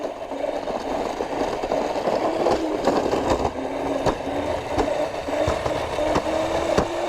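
Small motor scooter engine running steadily during an outdoor ride, a continuous buzzing drone with rattles and brief clicks, close and moderately loud with no talking.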